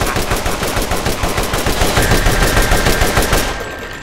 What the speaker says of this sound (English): I think we'll just stick to this assault rifle